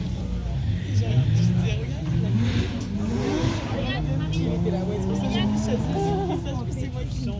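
Several Porsches, including a 911 Sport Classic, pulling away at a car-spotting gathering at Lohéac, with a steady engine drone and rising revs close by, people talking over the top.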